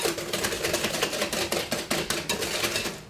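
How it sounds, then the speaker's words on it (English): Butter and sugar being whisked together in a bowl for a simple sponge cake, a steady run of quick, close scraping strokes that keep a fast, even rhythm throughout. "I'm going to be using my whisk and whisk the butter and the sugar together."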